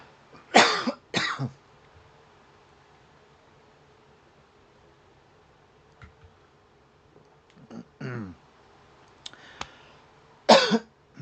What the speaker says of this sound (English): I'm going to have a coughing fit again.